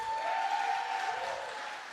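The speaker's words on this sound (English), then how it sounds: "Our audience is giving us another round of applause" Studio audience applause during a live hospital broadcast on underage drinking, a short wash of clapping heard from a distance and blended with a steady electronic tone, fading slightly at the end.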